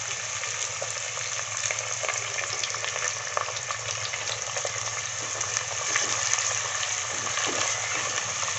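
Tomatoes frying in oil in a clay pot for a fish curry, giving a steady, dense sizzle with a few soft crackles and pops. The sound runs alone throughout at an even, moderate level.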